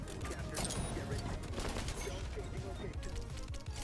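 Gunfire in the shooter game XDefiant, a dense, continuous crackle of rapid shots and impacts, loud and close throughout, with a voice talking over it.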